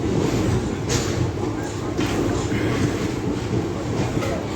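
A sleeper train running between Secunderabad and Trivandrum fills the clip with a steady, loud roar and rumble, with faint rhythmic clicks over the noise and no break throughout.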